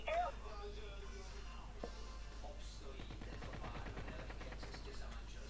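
Bursts of rapid gunfire in the video game Call of Duty: Mobile crackle in the background, with a sharp shot near the start of the second half, while people talk over it in Czech.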